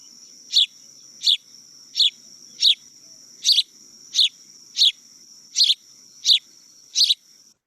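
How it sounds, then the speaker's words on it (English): A sparrow repeats one short, high chirpy phrase about ten times at an even, unhurried pace, clear and close with nothing else around it. "And this is the sparrow."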